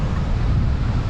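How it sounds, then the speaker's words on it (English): Wind gusts up a mountain valley in the Alps during a paragliding flight, a loud, steady, close roar of buffeting across the microphone. "the wind's blowing up this valley"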